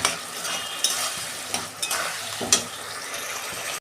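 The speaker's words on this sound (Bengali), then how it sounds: "মশলাটা দিয়ে আমি একটু কষে নেব।" Spice paste with turmeric sizzles steadily in a pan for a fish curry with ridge gourd and potato, with a few scraping stir strokes cutting through the continuous hiss; no one speaks.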